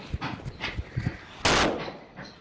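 A large firecracker goes off in a village lane, one loud close blast with a short noisy tail, after several smaller pops and low thumps.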